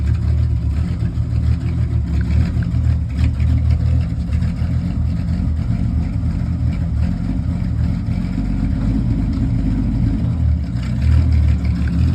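A first-generation Dodge Cummins diesel truck engine revs with a heavy, steady low-end rumble and lumpy idle character, loud and close throughout with no talking.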